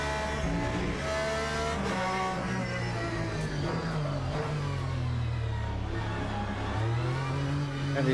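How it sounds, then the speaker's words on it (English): Race car engine braking in the Le Mans Ultimate racing game, a loud continuous engine drone with shifting pitch as revs fall and rise, close and steady with no talk. "Trying to do some engine braking as good as I can."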